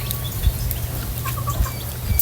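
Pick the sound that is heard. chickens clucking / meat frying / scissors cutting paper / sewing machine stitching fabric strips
chickens clucking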